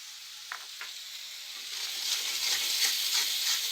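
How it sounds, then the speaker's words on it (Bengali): Spices sautéed in a pan over medium heat with salt and turmeric for a Bengali drumstick and fish curry, a steady close sizzle and fry hiss with a few soft stirring clicks, growing a little louder toward the end. "মিডিয়াম হিটে মশলাটাকে ভালোভাবে কষিয়ে নেব"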